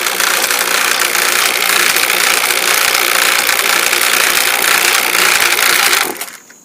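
An R-22 air conditioning unit runs during installation, giving a loud, steady mechanical roar with broad hiss that holds evenly, then cuts off and winds down at the end.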